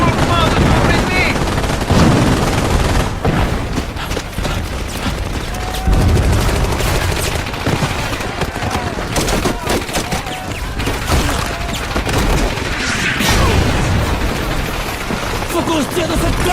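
Dense machine-gun bursts from MG42s rake a beach assault in Company of Heroes, loud and continuous, tangled with explosions and gunfire while shouting voices carry over the battle.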